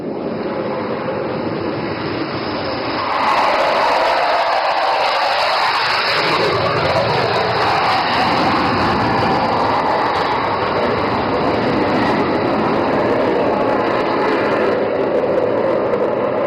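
Indian Air Force Sukhoi Su-30 fighter jet making an overshoot pass at an air show in Dibrugarh, a loud, sustained broadband jet roar that swells as the aircraft approaches and stays strong throughout, with no talk.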